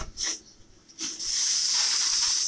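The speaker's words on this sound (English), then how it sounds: "There's some steam cleaning going on." Steam cleaner hissing over olefin carpet during a residential carpet cleaning job in Ellenwood, Georgia: two short bursts, then a steady, loud, continuous hiss with no talking.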